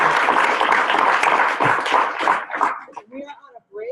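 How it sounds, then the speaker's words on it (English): An audience at an environmental acoustics symposium applauds loudly and steadily for about three seconds, with voices mixed into it, before the clapping thins out into scattered claps and nearby talk. "please join me in one round of applause here for Bryan."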